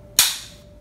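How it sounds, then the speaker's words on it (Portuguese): A bolt-action rifle gives a single sharp simulated dry-fire click, a bright snap with a short hissing tail, close and alone over quiet room tone. "efetuar o disparo simulado"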